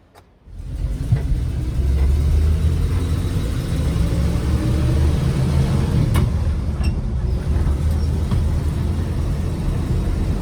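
A 1971 Bahama Blue Ford Bronco with a column-shift manual transmission starting off and driving, its engine rumbling loud and steady close by after a brief quiet start, with road and wind noise.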